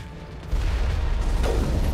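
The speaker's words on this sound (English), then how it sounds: "An explosion." A boom goes off in the Mass Effect video game, a sudden low rumble cutting in about half a second in and rolling on loudly to the end, with a brighter burst partway through.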